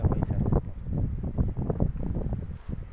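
Strong wind gusting across a rooftop, buffeting the microphone in continuous rough rushes with faint high whistling above, loud and close throughout.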